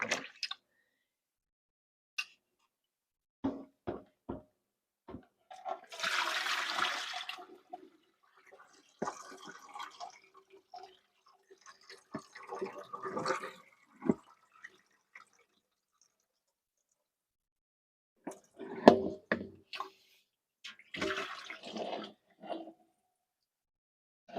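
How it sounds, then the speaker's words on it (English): Vinegar water used for soaking cotton yarn is poured out into a sink or drain, with intermittent splashing, gurgling and dripping in separate bursts and quiet gaps between them, close by and fairly faint. "pour this vinegar water out."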